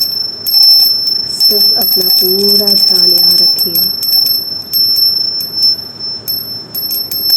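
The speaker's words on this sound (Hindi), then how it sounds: "मंदिर की घंटी की आवाज़ पर" A temple bell rings with bright, sustained metallic tones, struck repeatedly in an even rhythm, while a calm voice speaks softly over it.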